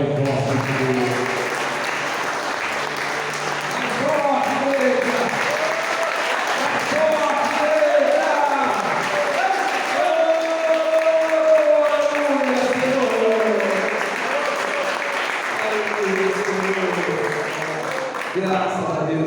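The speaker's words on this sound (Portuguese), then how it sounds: "Dê as suas mãos para o alto e aplauda bem forte" A church congregation applauds loudly and steadily at a worship service, a dense wash of clapping from a large crowd with voices and cheers mixed in throughout.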